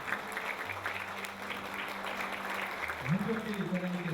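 An audience applauds at an honorary doctorate conferment ceremony at Jeonju University, a dense, steady clapping that runs throughout with voices and talk mixed in.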